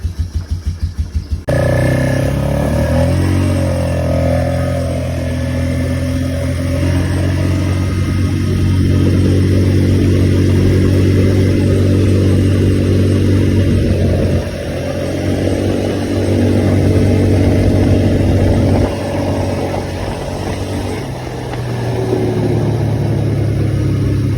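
A four-wheeler ATV engine while riding along a dead-end alley: a loud, close, continuous motor drone that swells and settles as the throttle changes, with no talk.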